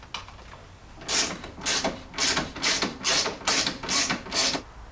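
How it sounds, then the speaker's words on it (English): Bolts are driven in to secure the grille of a 2009–2018 Ram truck to the metal core support. About eight evenly spaced ratcheting bursts sound close by, one after another. "now we can bolt our grille in from the top with our 4 bolts"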